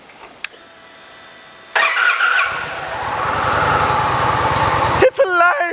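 A Brooks Challenger motorcycle with a single overhead cam engine cranks and fires up, a starter whirr followed by a steady, smooth idle, with someone talking briefly right at the end.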